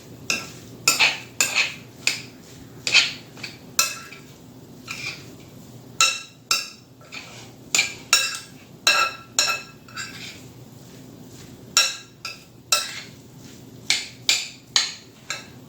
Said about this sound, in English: we're just going to mix this up, make sure it's mixed pretty good here